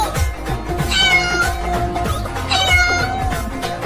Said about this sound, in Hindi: वो बिल्ली उस चूहे को खाने के लिए पकड़ रही है।